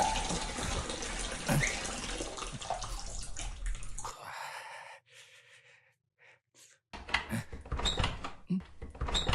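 Water runs from a bathroom tap, a loud steady gushing that stops abruptly for a few seconds of near silence before the flow resumes strongly.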